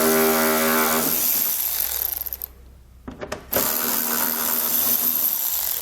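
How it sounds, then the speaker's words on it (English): Ratchet or power driver with a 10mm socket removing bolts from the rear of a car's front fascia; close loud whirring runs for a couple of seconds, then a few short clicks and a pause before the whirring resumes. "We need to pull those out, so we'll use that same 10mm socket and pull."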